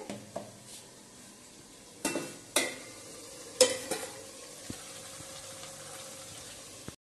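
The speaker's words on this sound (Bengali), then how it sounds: "পনিরগুলো ভেজে নেবো এখন।" Paneer frying in a pan gives a low, steady sizzle, with sharp metallic stirring clinks and scrapes at intervals and a few louder pan knocks, close up and alone.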